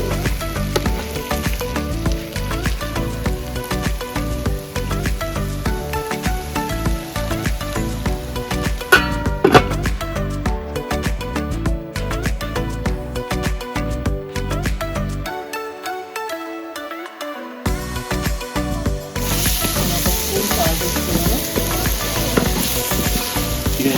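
Chopped tomatoes fry in a pan for a Telangana chicken curry, giving a steady, loud, crackling sizzle that runs throughout with scattered stirring clatter and spoon scrapes.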